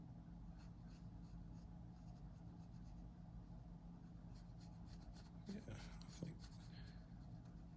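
A pencil sketches a bottom lip onto a whittled wooden hippie caricature, giving a soft, steady, close scratching with quick repeated strokes over faint room hiss and a couple of small knocks near the end.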